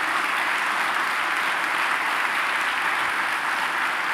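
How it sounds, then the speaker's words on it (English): Dense, even applause from a large audience at an evening talk on greenwashing, sustained and unbroken for the whole stretch with no speech. "Please, a round of applause for Professor Joe Stiglitz."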